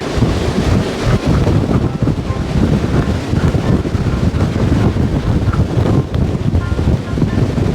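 Strong wind blasting steadily across the microphone at Sigiriya Rock Fortress in Sri Lanka, a loud, continuous rumbling roar with gusty fluctuations and no pause throughout.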